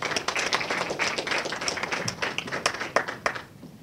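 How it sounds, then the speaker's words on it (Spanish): Applause for a teacher at a human rights panel discussion, a small audience clapping in a loose, uneven patter for about three and a half seconds before it fades out. "Un aplauso para la maestra."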